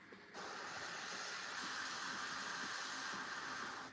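An airbrush sprays paint onto a Warhammer miniature, a faint steady hiss of air that begins suddenly and continues evenly at close range.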